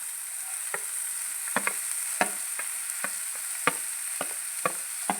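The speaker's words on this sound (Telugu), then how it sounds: "అన్ని ఆనియన్స్ బాగా వేయించుకున్నాక క్యారెట్ కూడా వేసేసుకున్నాం." Carrots and onions frying in a pan give a constant high sizzle. A spatula scrapes and taps against the pan in sharp, irregular strokes every half second or so.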